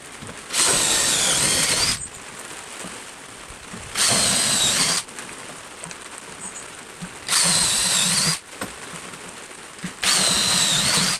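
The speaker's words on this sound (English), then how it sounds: "because these are 10mm bolts, I'll use the 10mm auger" A power drill bores into wood with a 10mm auger bit for 10mm bolts. It runs in four loud, steady bursts of about a second each, separated by short pauses.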